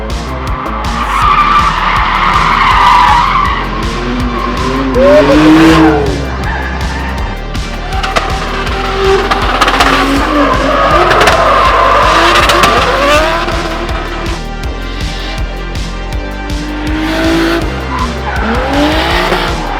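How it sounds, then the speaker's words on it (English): 2J-engined BMW E36 drifting at a West Virginia track: loud, sustained tire squeals and skidding rise and fall in repeated waves over a roaring engine, heard close. "we got to watch him drift his 2J E36 a little bit more at a track over in West Virginia"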